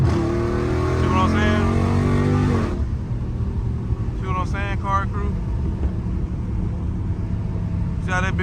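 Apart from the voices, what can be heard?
Dodge Scat Pack engine revving and choking while drifting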